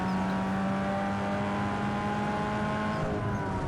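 A car engine in Need for Speed Underground 2 holds a steady, droning rev at high RPM, continuous and close, with no talk over it.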